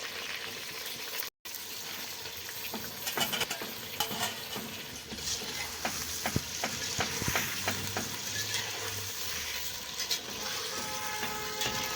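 Cauliflower florets fry in hot oil with a steady crackling sizzle, broken by clattering stirring and scraping in the pan throughout, fairly close and moderately loud.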